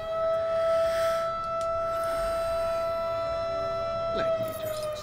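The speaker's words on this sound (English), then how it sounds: "there goes the air raid sirens" Air raid sirens wail in Elder Scrolls Online, sustained steady tones hanging at a moderate distance, with faint background game sounds beneath.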